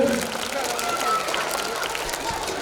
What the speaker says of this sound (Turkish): Ona bir alkış yapalım, teşekkür edelim.